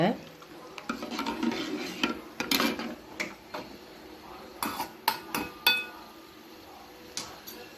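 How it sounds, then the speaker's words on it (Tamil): Crushed cardamom is stirred into coconut milk in a pot, producing a steady run of light metallic clinks and scrapes from a spoon, close and fairly crisp, with no voice over it. "இப்போ அதோடு நம்ம அப்படியே சேர்த்து விட்டு நம்ம நல்லா அப்படியே கலந்து விட்டுக்கலாங்க"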